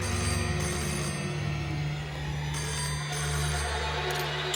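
An old-style telephone bell rings steadily and loudly with no pause, over a low background hum, with no voices.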